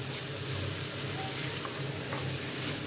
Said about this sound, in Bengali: একটুখানি ভেজে নিতে হবে।